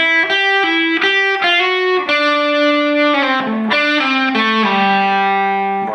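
Overdriven electric guitar runs through the first two phrases of a solo, a flowing string of slid and pulled-off notes with a chorus-tinged, distorted tone, played loud and close with no talking.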